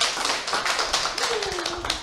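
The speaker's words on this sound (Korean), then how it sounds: "오늘 여러분들을 위해서 박수치고 시작하도록 하겠습니다." A small indoor seminar audience in Bundang claps together briefly, a dense patter of hand claps filling the short moment at close range, with a faint tone sliding underneath.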